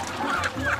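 Chicken clucking during slaughter, a brief burst of a couple of short, agitated clucks heard close up, lasting under a second.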